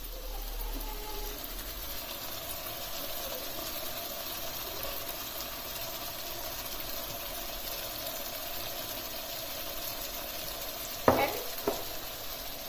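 A spoon stirs seasoning and garam masala into kabuli pulao in a frying pot, over a soft, steady sizzle. A couple of sharp scraping clatters come near the end, all fairly quiet and close.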